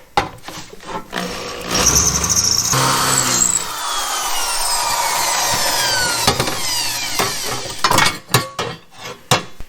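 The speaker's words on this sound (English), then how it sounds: "Now I want to just drill out these 2 rivets on each one" Power drill boring out rivets on a Corvair H6 engine part, a loud grinding whine rising and falling in bursts with a long sustained cut in the middle, close up with no talk.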